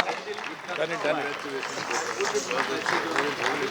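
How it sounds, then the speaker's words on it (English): Audience applause at a Kathak dance event honoring a performer, dense steady clapping sustained throughout with voices talking over it. "Round of applause for Pooja, please."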